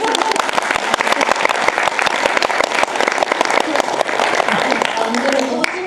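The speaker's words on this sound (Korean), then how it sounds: "아, 박수." An audience at a film screening Q&A for the film First Summer breaks into sustained, dense applause, loud and close throughout, with some voices mixed in.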